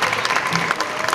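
Short burst of audience applause at a vocal academy gala concert as the next singer is introduced, dense steady clapping filling the hall without a pause.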